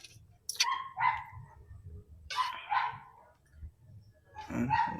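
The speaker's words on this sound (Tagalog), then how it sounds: "kawawa naman yung aso nakatali yata yun. Kaya kahul lang kahul." A tied-up dog barks in a few separate bursts of two or three yaps, somewhat distant, with quiet low rumbling between the barks.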